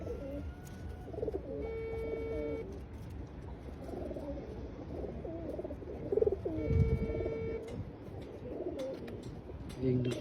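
A pigeon coos nearby in soft, low, repeated phrases, several bursts spread across the stretch, with a thin electronic tone and other background sounds mixed in.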